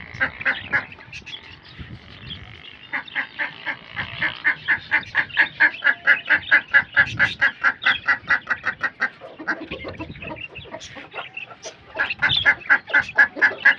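Chickens and a rooster clucking rapidly while being scattered grain, dense rhythmic pecking calls in steady bursts, close by, with quacking ducks mixed in.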